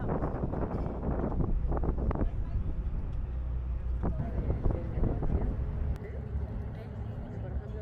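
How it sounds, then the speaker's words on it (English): Cold wind blows steadily near a glacier, a constant rushing roar buffeting the microphone, with no speech over it. "It's just a bit of a cold wind."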